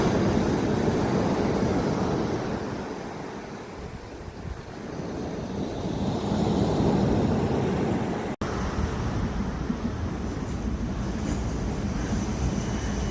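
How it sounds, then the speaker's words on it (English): A DART commuter train rumbles past nearby at Killiney Hill near the coast, a broad roaring swell that rises and fades, mixed with gusty wind buffeting the microphone. "The DART train, which is Dublin Area Rapid Transit, and over original arches."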